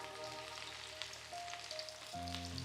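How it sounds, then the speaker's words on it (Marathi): Semolina-coated fish pieces fry in hot oil, giving a soft, steady sizzle and crackle at close range, with a faint tonal hum underneath and no voices. "मासे मस्त फ्राय व्हायला लागल्यात"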